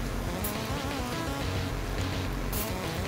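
Steady rain falls outside on a wet day, a constant dense patter with no talk, filling the background evenly throughout.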